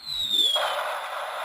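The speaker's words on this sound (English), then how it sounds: "Fireworks." A sound machine plays a short synthetic fireworks effect: a descending whistling squeal that breaks into a hissing crackle and fades, all within about a second and a half.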